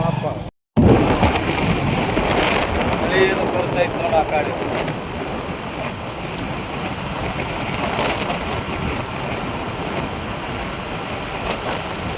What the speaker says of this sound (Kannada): ಜೋರು ಮಳೆ ಸುರಿ ಆಗ್ಬಿಟ್ಟು